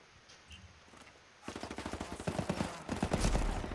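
Rapid automatic gunfire in the tactical shooter Ghost Recon Wildlands, a desert outpost PvP match: quiet for a moment, then a sustained burst of close, loud shots in quick rhythmic succession, swelling louder toward the end.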